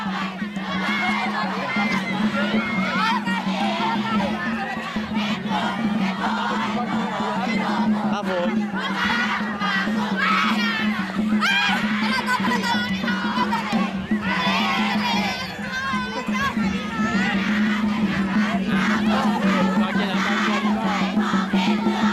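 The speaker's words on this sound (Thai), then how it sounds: "กองเชียร์ครับ" A school cheer squad in purple chants and shouts in unison at a school event, a loud crowd roar of many young voices with rhythmic bursts that carries on for over twenty seconds.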